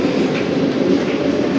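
A fast suburban train at a Mumbai station, a continuous loud low rumble of the moving carriages with faint clatter, steady and close for the whole stretch.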